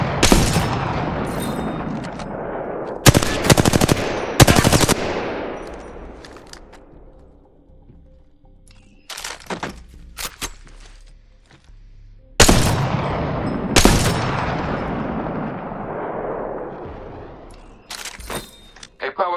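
Gunfire in the Apex Legends battle royale game plays on Nintendo Switch in loud rapid bursts, each followed by a ringing decay, with quieter gaps between volleys and a narrating voice in places.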